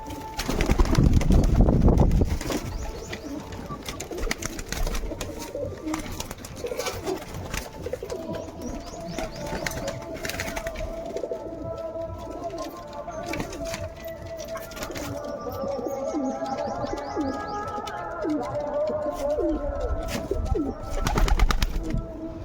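Pigeons coo in repeated throaty rolling calls as a king pigeon courts its mate, steady and close over a long stretch, with rustling and wingbeats and a little talking in places.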